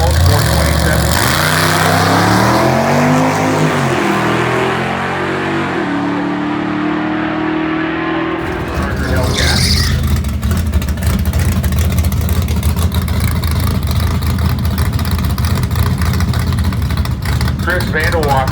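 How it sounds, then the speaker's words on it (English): A Camaro runs at a drag strip during Dragweek 2022 in Cordova. An announcer talks over the first half, then a loud, broad engine roar takes over and holds steady to the end. "Nick Latomsky goes 13-31-0-107 in the Camaro right now"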